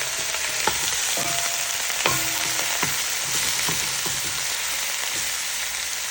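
Turkey neck meat sizzles and crackles steadily in a hot pot, a loud continuous frying hiss broken by a few sharp pops and clinks of utensils, with no talking.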